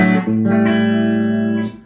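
Electric guitar played through a Dinosaural Cogmeister pedal set to clean boost, a loud sustained chord struck, held and ringing before fading out.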